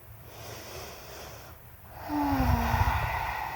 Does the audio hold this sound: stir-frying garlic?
no